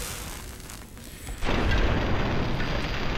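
An energy weapon fires in Fallout: New Vegas, a single deep booming blast that lands suddenly and leaves a loud, rumbling roar trailing afterward, with no talking over it.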